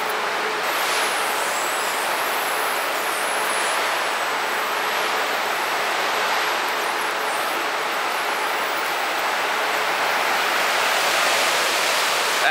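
Water streams continuously down a water ride slide at an amusement park, a loud, even broadband rush that holds steady throughout, with no voices.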